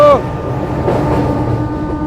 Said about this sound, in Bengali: ছুটে চলেছে ট্রেন গোকুলনগর জয়পুরের পথে